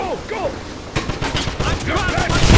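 Rapid gunfire bursts in the Wolfenstein video game during a fight at a train station. After a short pause the dense, loud shooting begins and keeps going, with voices talking over it.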